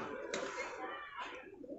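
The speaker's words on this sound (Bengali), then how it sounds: "এখানে পায়রা কেনা বেচাও হয়" Pigeons coo at a pigeon-trading market in Berhampore, Murshidabad, with a short, soft cooing over a busy, noisy background and possible voices nearby.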